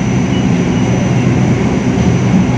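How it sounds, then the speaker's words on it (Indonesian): A local Doho Penataran train bound for Blitar via Kertosono, in Indonesia, is overtaken by the Argo Semeru train, heard as a loud, steady rumble of rolling rail wagons close by with no pauses. "Ini dia kereta api lokal yang disusul oleh kereta api Argo Semeru."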